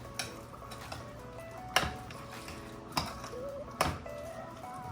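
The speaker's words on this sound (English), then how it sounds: "Let's just mix that around." Spoon stirring guacamole in a bowl, a few soft scrapes and several sharp clinks of metal against the bowl at irregular intervals, close and otherwise quiet.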